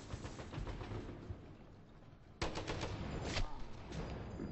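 Rapid automatic gunfire in the Rainbow Six Siege shooter game, with a dense stream of shots that jumps to a louder, closer burst midway and keeps going to the end.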